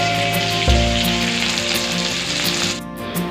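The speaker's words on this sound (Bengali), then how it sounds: "আর এখানে মাছটা ভাজা হচ্ছে, এই যে মাছের তেলটা এবার ভাজা হচ্ছে" Hilsa fish fries in hot oil, a loud, close, steady sizzle with crackling spatter and a brief sharper burst near the start, no voices.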